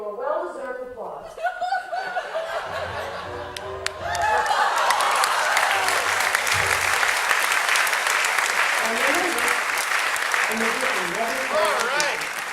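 An audience laughs and chuckles as a magic trick ends, then breaks into loud, sustained applause that carries on with scattered laughter, while a performer's voice speaks over it at the start and end.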